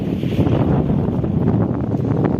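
Loud, continuous rumbling buffets of wind hit the microphone, a dense low roar with no pauses throughout.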